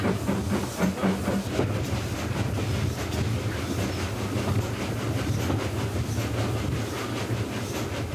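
The Hayling Billy steam locomotive runs on the Isle of Wight Steam Railway: a loud, steady rumble with continuous clickety-clack from the wheels and a faint hiss, heard close and alone with no talking.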